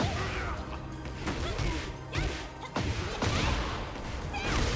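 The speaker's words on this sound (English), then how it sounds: "we smashed the ground" Heavy ground-smashing impacts from a fighter in the video game Tekken 8, several loud crashing thuds and whooshes landing in quick succession over busy game effects.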